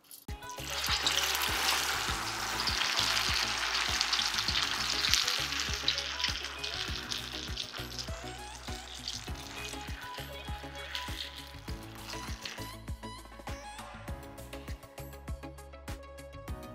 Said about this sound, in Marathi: पहिले एक आपण वडी तळून पाहू.